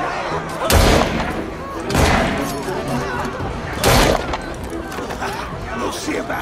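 Gunshots in the video game Assassin's Creed Syndicate, three loud booming blasts spaced about a second or two apart over a rumbling game background, with a voice talking between them.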